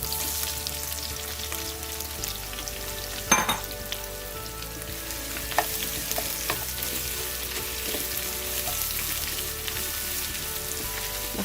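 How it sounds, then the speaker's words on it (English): Sliced onions frying in hot oil for a Hyderabadi-style chicken biryani, a steady close sizzle with a few sharp clatters of stirring against the pan. "we're going to add all of our sliced onions"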